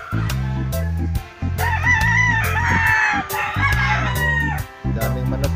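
Several roosters crow repeatedly at a gamefowl farm, loud overlapping calls near and farther off, with a steady low hum underneath.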